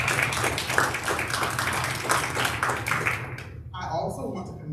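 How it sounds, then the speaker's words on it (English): Crowd applause for school choir performers at a school board meeting, a steady wash of clapping that cuts off abruptly near the end. "Can we give all of those performers a round of applause?"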